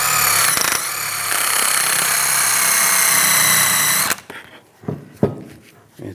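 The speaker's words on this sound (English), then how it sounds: "Take a wire brush, and you want to clean this up." A wire-brush attachment on a power tool whines steadily at high speed while cleaning rear brake parts on a 2007-2014 Cadillac Escalade, a loud continuous buzz for about four seconds, then stops, followed by scattered clanks and handling sounds.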